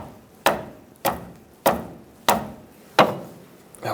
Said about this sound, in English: I'm going to take a rubber mallet, tap the end of the wrench.